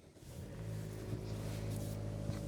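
A 2025 Mazda CX-5 2.5 S Premium Plus fires up by push button, quickly settling into a steady, low, even idle hum heard from inside the cabin with no talking.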